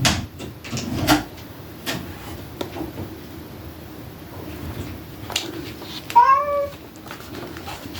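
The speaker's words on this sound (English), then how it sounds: "Pardon the cries of my cat." A pet cat gives a short rising meow, indoors, fairly close, around six seconds in, amid faint room noise and scattered small knocks and clicks.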